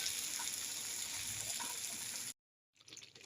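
Water poured into a pot of daliya cooking on the stove, a faint continuous hissing, splashing pour that stops abruptly, then a short burst of bubbling simmer.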